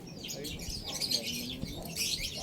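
Faint chirping whistles over a soft outdoor background at a pigeon racing loft, with short bird-like calls recurring a few times.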